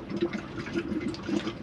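Water gurgles and splutters through a drained-down motorhome boiler in a Swift Escape 696 as it refills from the tap, a steady close bubbling with uneven pulses and no voices.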